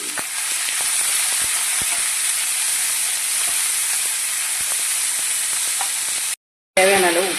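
Sliced ivy gourd (kovakkai) fries in a pan with curry leaves, giving a loud, steady sizzle with occasional stirring scrapes, briefly cut off before resuming.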